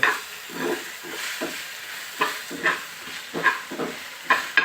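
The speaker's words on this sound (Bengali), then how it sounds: "এই যে এখন পুরো ঢেঁড়সটা এটার ভিতরে দিয়ে দিব, ঢেঁড়সটা দিয়ে সুন্দর মতো এটাকে নাড়াচাড়া করতে হবে।" Okra stirred in a hot pan, a steady frying sizzle broken by repeated scraping strokes of the spoon at an uneven rhythm, close and fairly loud, with no talking.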